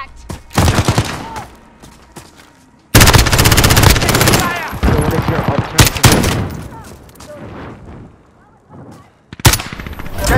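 Loud, close bursts of automatic gunfire in Call of Duty: Modern Warfare, several long sustained volleys broken by short pauses, with sharp single shots near the end and a voice talking over parts of it.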